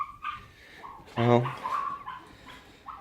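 A short, high yelp from a puppy rings out amid background voices, with someone speaking briefly nearby.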